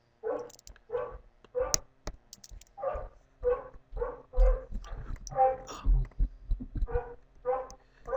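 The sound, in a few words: dog barking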